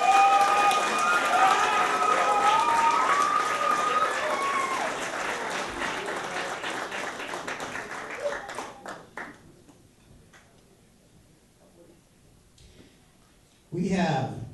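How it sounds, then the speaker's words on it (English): Applause at a summer jam camp concert, loud sustained clapping from the audience beneath a voice on the sound system, fading to near silence before a brief burst of noise at the end. "Give him a big round of applause."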